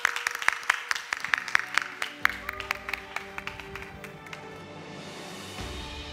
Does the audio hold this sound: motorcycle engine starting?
no